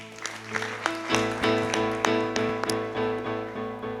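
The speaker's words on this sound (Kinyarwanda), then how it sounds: "mwikomera amashyi." A church congregation claps hands in a steady, even rhythm, many hands together, over sustained musical tones during an overnight worship gathering.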